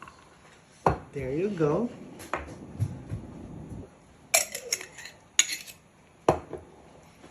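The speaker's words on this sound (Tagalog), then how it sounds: "Sama na natin yung ice." Ice cubes clatter and clink into a glass while a lychee soda cocktail is being made, in several sharp separate rattles spread across the moment, with a person talking briefly between them.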